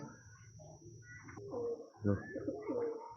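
Soft pigeon coos roll through the clip, a few low throaty calls close by over a faint steady background hum.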